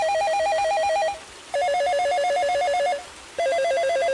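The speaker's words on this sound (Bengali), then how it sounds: "এক বর্ষার রাতে তার ফোনে একটি অচেনা কল এলো।" A telephone rings with an incoming call on a rainy night, giving three loud electronic ring bursts of about a second each, separated by short pauses.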